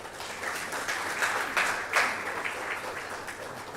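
Audience applause at a building inauguration ceremony in Ghana, a steady roll of many hands clapping that swells briefly near the middle and continues evenly throughout.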